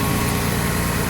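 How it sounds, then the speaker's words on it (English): A Dodge ProMaster van engine idles with an exhaust leak at the front pipe, giving a steady, close, unbroken rumble with a rough hiss across the whole stretch. "the exhaust is leaking"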